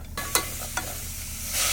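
Onions sauté in a pan at an outdoor campsite, cooked with water and no oil. A soft hiss runs under two quick scrapes of a stirring utensil, and the sizzle swells near the end.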